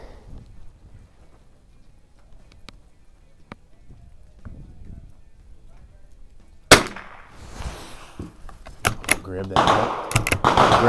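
A 1935-37 Mossberg No.42 .22 LR bolt-action rifle firing off a rest at a range: a quiet stretch, then a sharp, close report about two-thirds through, followed by a few more crisp transients and a loud, busy tail.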